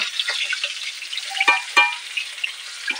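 Fish frying in a pan: a continuous bright sizzle with scattered sharp crackles and pops, close and fairly loud, with no voices.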